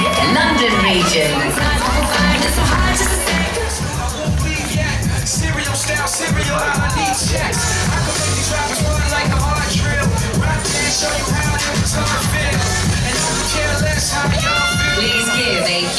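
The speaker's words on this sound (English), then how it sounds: "Please give a huge round of applause" Loud, dense crowd cheering, whooping and shouting fill an award ceremony for a L'Oréal Professional Colour Trophy hairdressing final, sustained without a break.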